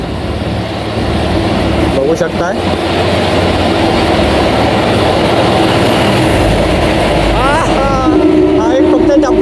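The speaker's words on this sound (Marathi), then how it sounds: "ही ट्रेन येते समोरून" A railway engine roars steadily and loudly through the enclosed echo of a tunnel near Lanja, its heavy rumble continuous throughout while people talk over it.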